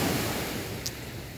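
Ocean surf washing onto an eroding beach, a steady wash of broken waves under the sky with wind across the microphone and no voices.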